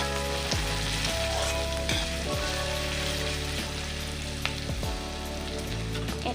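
Ginger, garlic and green chillies fry in hot oil for a banana flower dish, giving a steady close sizzle throughout with a few soft knocks of stirring and no talking.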